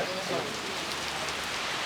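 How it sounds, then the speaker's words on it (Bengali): Heavy rain pours at an outdoor cattle market, a dense steady hiss of rain on surfaces filling the short stretch, loud and close, with faint voices in the background. "ভাই মারাত্মক বৃষ্টি হচ্ছে"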